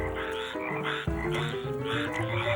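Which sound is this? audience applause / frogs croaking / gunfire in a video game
frogs croaking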